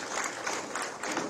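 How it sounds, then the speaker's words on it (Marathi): Audience applause at a BJP party event opening a North Goa election office: dense, steady clapping from a crowd, fairly loud and continuous, with no voices over it. "सगळ्यांनी एका जोरदार टाळ्या मारल्या"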